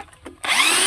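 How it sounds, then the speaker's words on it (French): After a brief quiet stretch, a power drill used to mix sand with water whirs up suddenly and runs loud and close, a steady high whine with a churning edge. "la perceuse"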